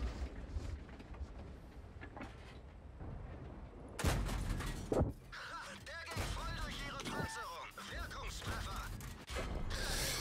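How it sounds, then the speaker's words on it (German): Artillery fire in the World of Tanks game booms across the battlefield, a sudden loud blast followed by several sharp impacts and clanks, with game noise before it. "Arti schießt schon wieder daneben."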